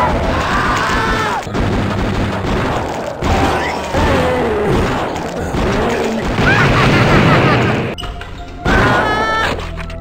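Shotgun blasts in a first-person shooter game, including akimbo single and double shots: a series of loud booming reports with reload clanks and mechanical effects packed closely across the span, with a voice talking over parts.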